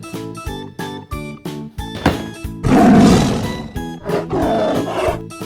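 A toy tiger lets out a loud electronic roar after a series of short clicking tones, the roar swelling close up then repeating more softly.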